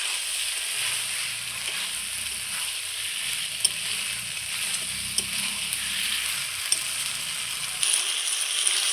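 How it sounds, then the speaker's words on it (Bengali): Fried jackfruit and potato being sautéed in spices for a jackfruit-prawn curry, a steady close sizzle with occasional stirring clicks and scrapes throughout. "এবার ভেজে রাখা কাঁঠাল আর আলু একসাথে দিয়ে খুব সুন্দর করে আবারও কষিয়ে নেব"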